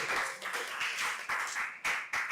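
A classroom audience claps hands in a brief, moderately loud round of applause with uneven bursts.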